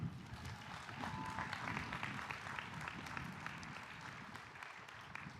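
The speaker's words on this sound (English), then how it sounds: "I think you all deserve a big round of applause" Graduates clap at a business school commencement, a soft, distant wash of steady applause from a large crowd that holds evenly throughout.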